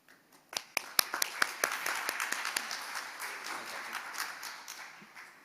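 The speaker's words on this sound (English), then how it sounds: "please give a big round of applause." Applause from an audience at a corporate debut stage event in Seoul, starting as sparse individual claps and swelling into a steady, moderately distant round of clapping.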